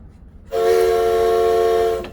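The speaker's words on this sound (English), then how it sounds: "my favorite feature, which is going to be the train whistle" The train whistle horn of a 2006 Liberty Prevost XL2 bus sounds loud and sustained after a brief quiet start, holding a steady chord for over a second before cutting off.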